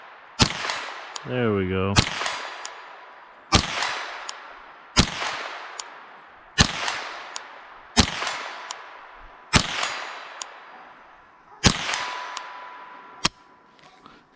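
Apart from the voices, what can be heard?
22 rimfire rifle shots, iron sights, plinking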